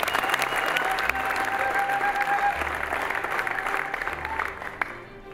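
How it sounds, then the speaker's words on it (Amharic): A congregation at a church service claps steadily and loudly for several seconds, a dense sustained applause that fades slightly toward the end. "ለእግዚአብሔር ክብር አጨብጭቡ"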